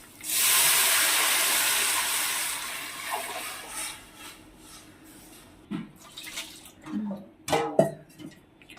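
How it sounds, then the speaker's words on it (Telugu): Buttermilk poured into a hot tempering in a pan for majjiga pulusu, giving a loud steaming hiss and sizzle that gradually fades, followed by scattered clinks and stirring knocks near the mic. "మనం ఇందాక తయారు చేసుకున్న మజ్జిగ ఈ పోపులో వేయాలి."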